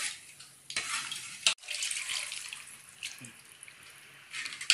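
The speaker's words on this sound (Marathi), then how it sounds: "हे गरम पाणी केलेलं आपण त्यात घालूया रश्श्यात" Hot water is poured into a spicy mutton curry and stirred, giving a loud rushing splash and bubbling hiss with a brief break, then more stirring and sloshing close by.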